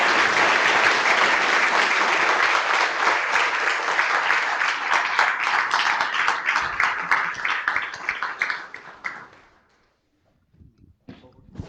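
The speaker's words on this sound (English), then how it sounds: "There's another round of applause for Matthew." Audience applause after a musical performance at the LSE Africa Summit, a dense sustained round of clapping from a large crowd that thins and fades out near the end, leaving near silence.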